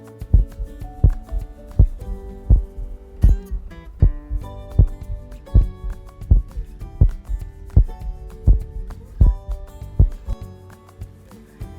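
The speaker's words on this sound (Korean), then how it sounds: "10초간 조용히 숨 쉬며 심장 박동에 집중해봐요." A heartbeat plays as a loud, steady rhythm of paired thumps, each double beat repeating about once a second and heard alone.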